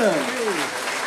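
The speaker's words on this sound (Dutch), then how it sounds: "Dames en heren, nog één keer een applaus voor Bart van Koenen." Applause from an audience at a themed afternoon event, a loud dense patter of clapping filling the short moment, with a voice fading out at the start.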